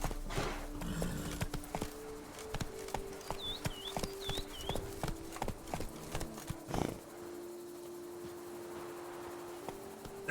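Horse hooves galloping in The Witcher 3 Blood and Wine, a quick irregular clip-clop close up over a low steady hum with a few faint game chirps, the hoofbeats easing off into quieter ambience near the end.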